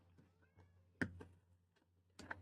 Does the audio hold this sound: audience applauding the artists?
no